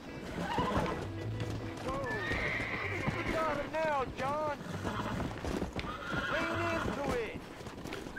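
Video game horses whinny repeatedly in rising-and-falling neighs over steady clip-clopping hooves, mixed with game music and background noise, with a voice talking through much of it.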